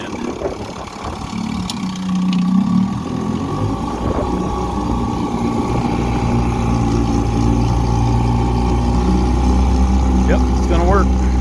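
A 1959 Evinrude Golden Jubilee Sportwin 10 HP outboard motor runs on a pond with a steady, close mid-pitched drone that rises slightly as it revs, with someone talking over it.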